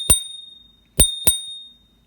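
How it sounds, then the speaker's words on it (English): Bell on a GOTRAX Apex electric scooter struck three times, each a bright, close ding, the last two rung in quick succession and left ringing. "Okay, here's the bell."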